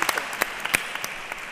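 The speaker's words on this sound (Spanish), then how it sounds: "Esto es un aplauso a todos los voluntarios de Navarra," Sparse, scattered claps from a small audience at a conference on sexuality and cerebral palsy, a few distinct hand claps over about a second and a half, fairly faint.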